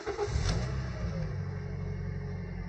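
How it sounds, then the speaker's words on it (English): A Toyota with an MMT semi-automatic gearbox starts up after clutch actuator learning, a brief cranking catch then a steady nearby engine rumble settling into idle. "push the brakes, and start the engine"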